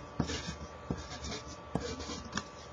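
A formula is handwritten during a volume and area test review, giving quiet, scattered scratchy strokes and taps with short pauses between them and no voice over them.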